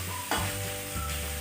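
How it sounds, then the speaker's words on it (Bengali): Large potato pieces sizzle in hot oil for a spicy dry potato curry, a steady crackling fry broken by the scrape of stirring, close and without speech. "আলুগুলোকে একটুখানি লাল লাল করে ভেজে নেব"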